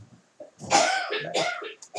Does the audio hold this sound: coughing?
yes